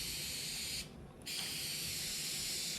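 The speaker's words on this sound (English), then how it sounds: "How to spray paint your 2012 Corvette." A continuous hiss of a spray paint can spraying a 2012 Corvette Grand Sport breaks off briefly, then resumes and runs steadily to the end, close and fairly quiet.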